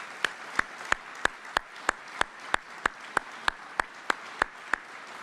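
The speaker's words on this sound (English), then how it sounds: "let's give them all a round of applause" Evenly spaced sharp claps, roughly three per second, ring out through a quiet hall at a military Medal of Honor Hall of Heroes induction ceremony, welcoming a soldier's family, with no talk over them.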